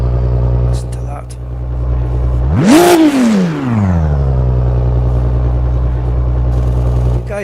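A Ginetta G55 GT4 race car engine in Automobilista 2 idles with a deep steady rumble, then blips into a sharp rev that rises and falls before settling back to a low droning idle.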